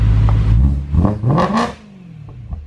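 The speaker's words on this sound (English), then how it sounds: "That's loud. Sounds to me like you need to change your exhaust setup." A loud BMW E92 M3 engine revving hard through its exhaust, rising and falling a couple of times before dropping to a rough idle.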